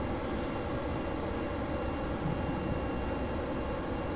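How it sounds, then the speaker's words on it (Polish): Rocket engines roar at raised thrust in the Kerbal Space Program video game, a steady dense broadband rumble that holds evenly loud throughout, with no talk over it. "Odpalimy nowy tryb, czyli tryb większego ciągu i większego zużycia paliwa na tych silnikach."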